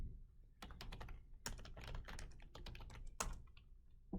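Typing on a computer keyboard, quick uneven bursts of close, crisp key clicks with short pauses between them, quiet and with no voices.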